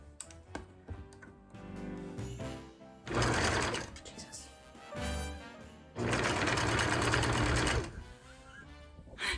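Sewing machine stitching fabric for a Christmas throw pillow: two loud, steady runs of rapid mechanical whirring, each a few seconds long, separated by quieter handling sounds and a brief shorter burst.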